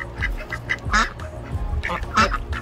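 Ducks quack outdoors in a few short, nasal bursts at moderate volume, spread across the stretch against a low rumbling background.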